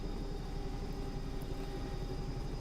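A Bell 222 helicopter in the X-Plane 11 simulator gives off a steady, quiet rotor and turbine hum with a faint fluttering beat, unbroken and with no talking.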